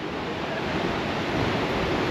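Constant heavy rushing of falling water fills the scene, a dense roar with some wind buffeting the microphone.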